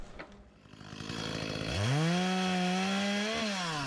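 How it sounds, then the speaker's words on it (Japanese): A chainsaw revs up from a low idle to a loud, steady whine, close by, with a brief dip in pitch as it bites into wood. "ひたすらね、これをチェーンソーで小さく切っていって、保管していくっていう感じですね。"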